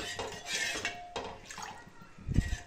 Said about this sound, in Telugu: కొంచెం కలుపుకుంటూ ఉండాలండి లేకుంటే ఉండలు పట్టేస్తాయి